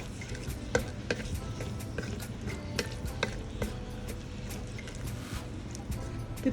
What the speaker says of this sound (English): my onions as well. Just saute those.